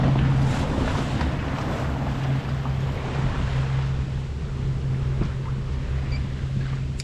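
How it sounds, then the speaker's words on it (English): A motorboat crosses close ahead of a sailing yacht's bow, its steady low engine drone mixed with wind buffeting and water wash around the hull, continuous and fairly loud with no talk. "We've got a motorboat motoring directly across the bow. Hopefully there's not too much wash from it."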